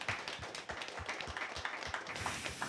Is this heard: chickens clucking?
no